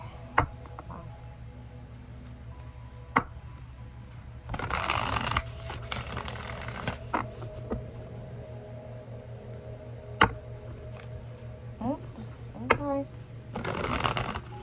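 Tarot cards are shuffled close by in soft, rustling bursts between a few sharp taps and clicks over a quiet room hum.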